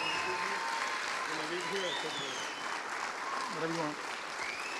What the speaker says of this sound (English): Please give them another wonderful round of applause.